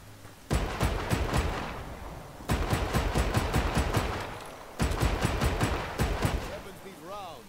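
Sustained automatic gunfire from Just Cause 3, in three loud bursts of rapid shots separated by brief pauses, with a faint chirping tone at the end.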